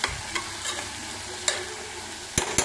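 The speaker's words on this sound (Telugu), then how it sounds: "నేను వేగటానికి కొంచెం హై ఫ్లేమ్లో పెట్టుకున్నా" Four green chillies and a full-size tomato fry on a high flame for guguni, giving a continuous close sizzle with occasional sharp spatula scrapes and clanks against the pan, no talk over it.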